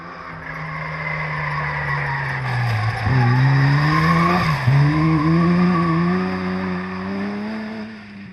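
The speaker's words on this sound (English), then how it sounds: "Greg McLeod, still putting the max traction car through its paces, moves into 6th place" A rally car with damaged rear bodywork skids through a special stage, its engine droning loud and near as tyres scrub and squeal, the pitch dipping and surging twice midway before settling into a steady howl.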